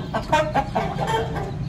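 A few Aseel chickens cluck close by in quick, short bursts, a brief flurry of throaty calls.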